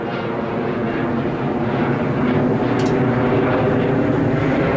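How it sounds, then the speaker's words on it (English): A fixed-wing airplane flies high overhead above waterfront New York City, a steady broad engine roar that stays loud and constant throughout, with no voices. "There's another plane up in the sky"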